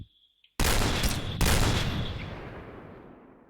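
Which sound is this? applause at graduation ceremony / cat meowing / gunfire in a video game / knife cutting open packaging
gunfire in a video game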